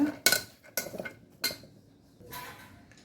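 A spoon clinks and scrapes against a pan while beans are stirred with chilli powder and turmeric for a quick poriyal: a few sharp metallic knocks, then a softer, longer scrape, close and fairly clear.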